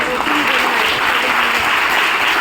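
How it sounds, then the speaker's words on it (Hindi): Steady applause from an audience at an income-plan meeting, honoring a participant who attended despite an accident, a dense continuous clapping heard close and loud throughout. "जबरदस्त तालियां बजाना"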